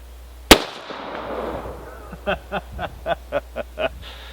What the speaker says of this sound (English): First shot with the 45 caliber pistol.